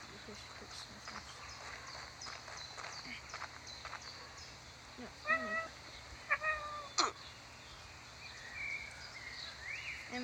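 Cat Simulator video game cat meowing several times in short, clear calls over a light background hum, with footstep-like taps and a person talking briefly.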